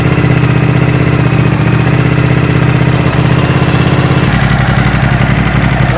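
Suzuki V-twin superbike engine idling, a loud, close, steady throbbing rumble with an even pulsing beat that shifts slightly in tone partway through.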